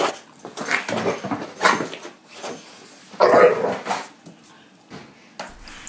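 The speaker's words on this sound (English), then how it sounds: "Let's listen to dogs." Dogs bark and yip in scattered bursts of varying loudness, with one stronger bark cluster near the middle and quieter gaps between.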